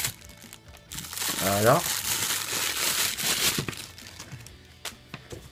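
Plastic packaging from a KINGTOP K11 gaming headset crinkles loudly and continuously up close as it is pulled off, while someone speaks briefly over the rustling.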